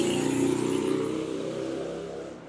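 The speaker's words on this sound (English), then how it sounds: "So sorry about the traffic noise" Road traffic passes outdoors beside a front-yard garden, a car engine swelling loud at first, then slowly fading as it moves away, steady and alone without talk.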